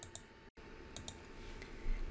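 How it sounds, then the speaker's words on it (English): A few sharp, light mouse clicks sound in a quiet room while the bold button is toggled in Word Online, brief and isolated with a short dropout between them. "I'm going to click on the B again."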